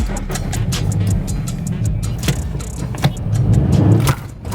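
A car engine fires up with a push-button start and settles into a close, rumbling idle, with a few clicks and knocks from the cabin over the running engine.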